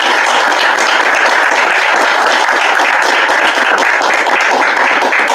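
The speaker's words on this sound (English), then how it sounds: "applause." An audience gives loud, sustained applause for a discussion panel, a dense, continuous roar of clapping hands that stays at full strength from start to finish.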